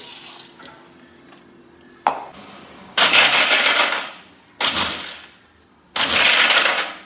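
Water is poured into a mixer jar for grinding, coming as three loud rushing pours of about a second each, separated by brief pauses and preceded by small clinks.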